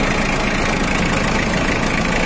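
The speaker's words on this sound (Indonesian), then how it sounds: "Dan bagian mesin silahkan disimak sendiri ya" A warmed-up 2000 Mitsubishi L300 pickup engine idles steadily and loudly up close, a constant even rumble with no variation and no voices.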